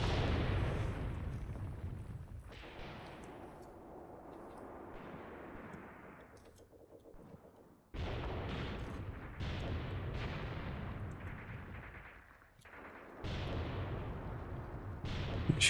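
Artillery fire mission in Graviteam Tactics, a WWII tactical war game with guns firing five rounds each: heavy, booming blasts and rumbling explosions come in repeated waves, with short quieter gaps between barrages and no talk.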